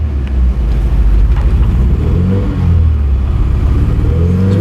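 A 1997 Nissan pickup running lean accelerates in first gear, a loud, steady low engine rumble with rising revving tones throughout, heard from inside or close by without speech.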